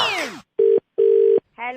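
A telephone on a radio prank call rings in two sharp electronic bursts, one short and one longer, set between snatches of voice.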